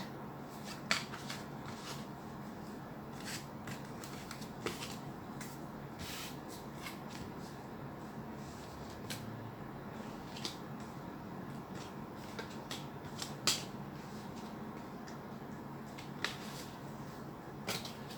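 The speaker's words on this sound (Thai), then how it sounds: "กำลังล้างไพ่อยู่" Tarot cards being shuffled, giving soft repeated riffling and flicking clicks scattered over a quiet room background, faint and close with no talking.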